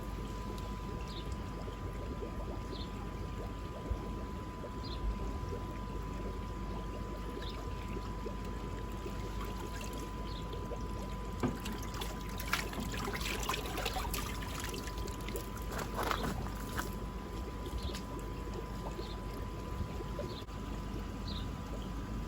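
A koi named Tigris goes into a garden pond, heard as continuous trickling and splashing water under a steady hum, with a burst of louder splashing in the middle.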